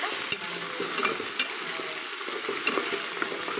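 Freshly pounded ginger garlic paste frying in oil for goat head curry, a soft continuous sizzle with light spoon-stirring clicks, close but fairly quiet, no voices.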